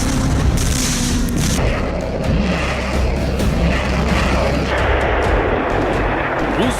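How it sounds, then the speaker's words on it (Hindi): Missile strikes in the Russia-Ukraine war: a continuous dense roar of booming blasts and rumbling, loud and steady throughout, with no clear gaps and no speech. "यूक्रेन पर दागी 40 मिसाइलें"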